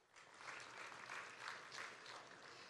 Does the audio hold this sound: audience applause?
yes